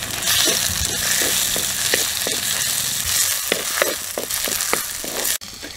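Tomatoes hitting a pan of frying ginger, garlic and green chilli for a village-style pallathi fish curry, with a steady close sizzle and scattered clicks of stirring throughout, ending in a brief sharp knock.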